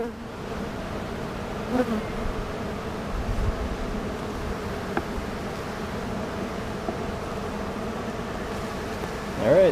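Honey bees buzz in a steady, close drone around a beehive during an inspection, a dense, even hum with occasional louder passes.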